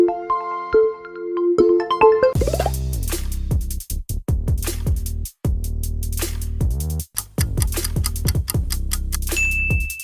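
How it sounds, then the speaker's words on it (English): Oppo smartphone ringtone playing alone, a bright electronic melody with a short chiming intro followed by a rhythmic, punchy synth pattern with repeated descending notes and brief pauses. "It's Oppo."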